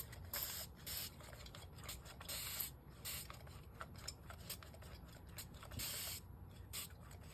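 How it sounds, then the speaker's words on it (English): Water spritzed from a spray bottle onto paper at a craft table, a series of short hissing bursts repeated in an uneven rhythm, close and fairly soft, with small rubbing and handling noises between them. "I kind of want to spray water right away"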